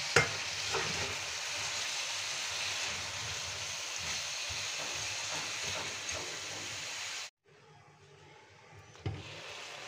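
Bitter gourd frying in a pan while being stirred, giving a loud continuous sizzle with scraping for several seconds, then cutting off abruptly into near silence before a faint clunk.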